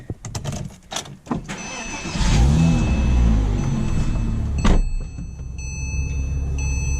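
A Porsche engine with stock exhaust starts and settles into a steady, rumbling idle with a few light revs, close by and fairly loud, after some brief clunks.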